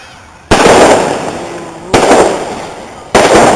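Fireworks display at a university celebration. Three loud, close booming blasts each decay into a long crackling rumble, roughly a second and a half apart.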